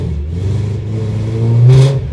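A BMW M3 V8 engine, with a dual-clutch transmission, idles with a rough, throaty tone, then revs up sharply to a loud, rising roar near the end and falls back quickly.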